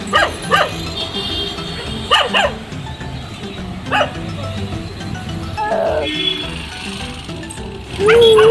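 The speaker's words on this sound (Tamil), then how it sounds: "பார்த்து குலைச்சிக்கிட்டே இருந்துச்சு அந்த பிள்ளைய" A dog barks repeatedly at night in short, sharp bursts spaced a second or two apart, with a whimper later, loud and fairly close over background noise and some talk.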